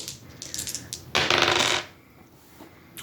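Translucent Ninja Turtle D6 dice, sixes replaced with a turtle-face symbol, rattle and clatter across a table during a HeroClix game, a dense close burst lasting under a second after some lighter clicks.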